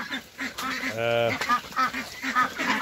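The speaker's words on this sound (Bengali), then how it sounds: "এই যে আমার হাঁস পিকিং স্টার থার্ড এড, আজকে 42 দিন বয়স।" Pekin ducks, 42 days old, quack and honk in a lively cluster nearby, short nasal calls overlapping with one longer, drawn-out call.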